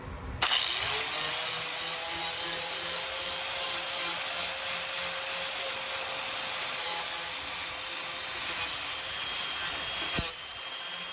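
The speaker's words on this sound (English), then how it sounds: "what I'm going to do is just sand this away, see how big it is" Sanding of rusted metal on the body of a 1964½ Mustang, a steady close whirring and abrasive hiss with a constant tone running for about ten seconds and then stopping, no talking.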